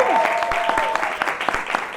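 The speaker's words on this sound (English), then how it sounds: "Clap for yourselves." A studio audience at a live talk show claps, with crisp individual claps under a brief overlapping voice and a sustained tone, lasting about two seconds.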